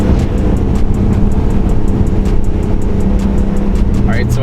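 A straight-piped BMW F80 M3 runs with a loud, steady, raspy exhaust drone that sounds close by, with a faint voice briefly audible at the very end.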